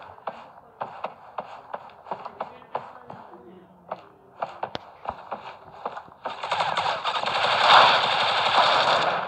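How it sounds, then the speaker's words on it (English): Suppressed gunfire in a multiplayer shooter match, a run of sharp, evenly spaced muffled shots that opens the clip, followed by a dense, louder wash of noise. "It sounded like a suppressed gun, and he had the UG."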